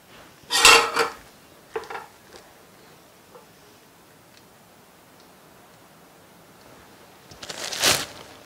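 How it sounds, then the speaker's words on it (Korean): Cooked bulgogi is plated onto dishes with two sharp clatters of tableware, one near the start and one near the end, with a few light taps and quiet in between. "자, 이제는 접시에 담아 볼게요."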